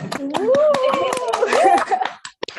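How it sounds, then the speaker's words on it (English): Online wedding guests on a video call with 62 locations clap after unmuting: scattered, uneven hand claps mixed with overlapping cheering voices and talk, all fairly close and loud, thinning out near the end. "I would expect to see more clapping than that with 62 locations"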